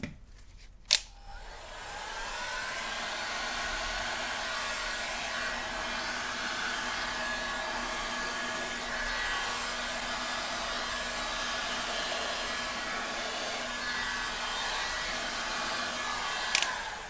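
A Resi Blast blower runs steadily over poured resin, a loud continuous whooshing airflow that starts after a click and sharp tap near the beginning and holds alone until another click at the end.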